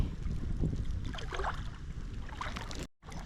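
A small boat moves across water with a low rumbling wash, wind buffeting the microphone and splashing bursts, close and continuous until a brief cut near the end.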